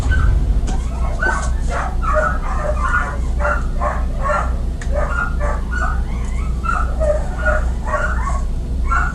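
Several malnourished dogs indoors in a house bark, yip and whimper in a steady, overlapping stream, fairly close and loud, with no clear talk over them.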